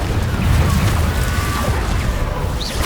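A Confringo fire spell explodes in the video game Hogwarts Legacy, a dense, loud rumbling blast that stays heavy and sustained, with a low boom throughout.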